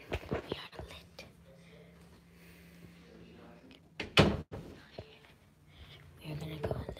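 A door in a newly bought house is opened, giving a sharp clunk and rattle midway, with soft whispering and quiet movement around it.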